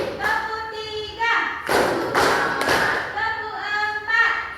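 A school class joins in a counted clapping routine, with a few sharp, loud claps landing one after another between a teacher's chanting voice.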